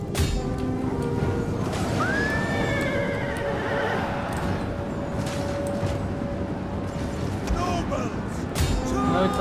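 Horses whinny loudly in a video game battle with horse archers, and a long neigh rises over a constant rumble of galloping hooves and clamour while a voice talks over the din.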